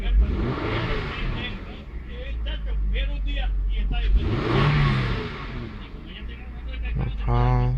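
A 1999 Honda Accord V6 with a check-engine fault from an O2 sensor revs up and falls back to idle twice, a close, loud engine note, while someone talks over it.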